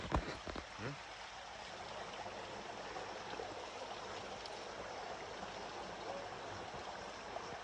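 Spring water flows steadily through a forest at Arba Minch in Ethiopia, a continuous close rushing and trickling that holds an even level throughout, with a few brief knocks near the start.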